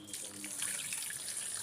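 Water poured over soaking rice in a bowl for chana dal payasam, a steady splashing pour running throughout the short stretch.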